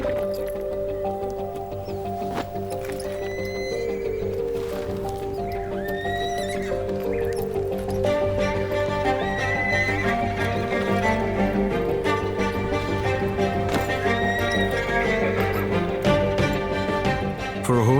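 A young colt being introduced to a bit and saddle whinnies several times over a steady clatter of hooves, with strong tonal music-like hum beneath; close and continuous throughout.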